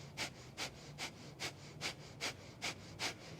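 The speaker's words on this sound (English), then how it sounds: "begin breath of fire. Rapid inhales and exhales through the nose" Breath of fire in a Kundalini yoga session: eight quick, evenly spaced nasal breaths, sharp and close, each forced puff sounding at a steady rhythm of about two per second, with nothing else heard.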